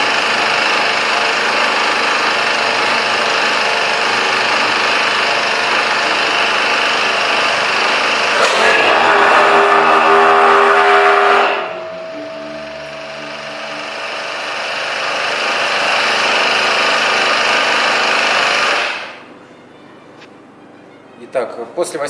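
A small petrol engine on a concrete vibrator screed runs steadily at a loud, constant drone while warming up, its pitch shifting briefly midway before dropping off near the end.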